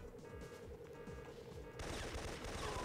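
Syphon Filter gunfire crackles in rapid, dense bursts of shots under a steady game soundscape, growing louder and busier in the final second.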